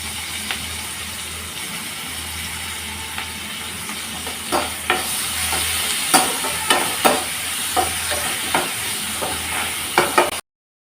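Onion and tomato with salt frying in a pan give a steady sizzle, while a spoon scrapes and stirs through them in a series of sharp strokes that bunch together toward the end.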